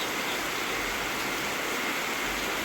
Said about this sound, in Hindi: अभी ना तुरंत बारिश आने स्टार्ट हो गई